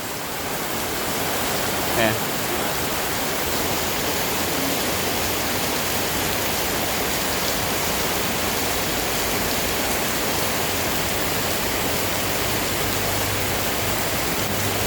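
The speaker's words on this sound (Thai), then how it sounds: "ฝนตกน้ำท่วมสนามเตะบ่ได้" Dense, steady rain roars without pause, a broad hiss filling the whole clip, with one brief faint knock early on.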